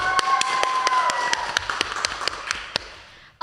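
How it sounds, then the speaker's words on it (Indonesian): Scattered, sparse claps from a small audience at a Lunar New Year greeting during a student finance talk, a few sharp hand strikes spread irregularly over several seconds. "Tepuk tangan dong."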